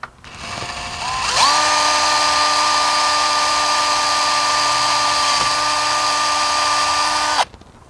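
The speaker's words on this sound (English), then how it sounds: "And now we're going to drill our 3/16 hole right here." A power drill with a 3/16 bit drills into a Trex railing, spinning up and whining steadily for about six seconds, close and loud, then stops abruptly.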